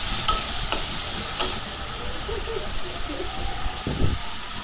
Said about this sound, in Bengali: চিংড়ি মাছটা কিছুক্ষণ কষিয়ে নেব।